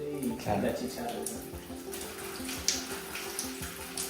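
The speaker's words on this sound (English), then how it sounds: "I'm going to warm up the water." Tap water running into a tub to warm a dog's bath, a steady soft gushing stream with faint splashes, heard under quiet background sounds.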